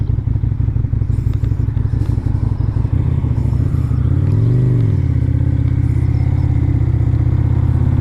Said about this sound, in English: Love the sound of this little bike.